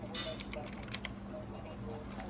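A Leaven K550 87-key mechanical keyboard gives a handful of scattered key clicks at close range, fairly soft and irregular over a quiet room hum.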